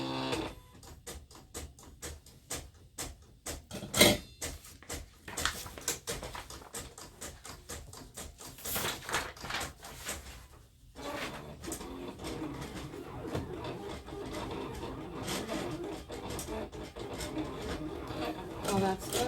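A Silhouette Cameo cutting machine slices heat transfer vinyl with busy, rhythmic mechanical whirring and clicking, steady and close, with a short pause midway.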